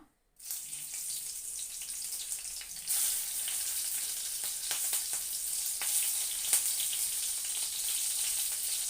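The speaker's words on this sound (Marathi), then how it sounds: "चांगल्या तेलामध्ये परतून घ्यायच्या" Green chillies fry in a spoonful of oil for sabudana khichdi, a close, steady sizzle that starts abruptly and grows louder and crisper partway through, with scattered sharp crackles and pops.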